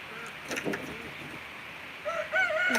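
A homestead rooster starts a loud, close crow near the end, after a few softer clucks and bird sounds earlier on.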